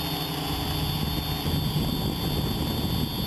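A DJI Flamewheel quadcopter drone with a Naza controller taking off from a picnic table and flying over a field, a steady loud high-pitched motor and propeller whine close by, with no talk.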